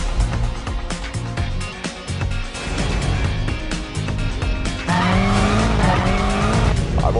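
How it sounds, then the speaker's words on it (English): A 2011 BMW M5 F10 lapping the Nürburgring at speed, its engine roaring and rising through the gears while the tires squeal and skid through corners, loud and close with no talk. "It's amazing driving the new M5 with Claudia around the Nürburgring."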